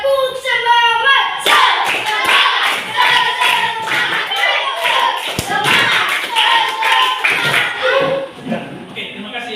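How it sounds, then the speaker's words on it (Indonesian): A classroom of students doing a rhythmic spirit clap on cue, sharp bursts of hand claps in quick patterns, close and loud, with a teacher's voice at the start and some chatter between. "Tepuk semangat 3 kali."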